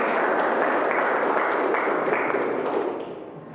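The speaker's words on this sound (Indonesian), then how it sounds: "Tepuk tangan untuk" A class of students clapping their hands in a classroom, a dense, continuous burst that stays strong before tapering off near the end.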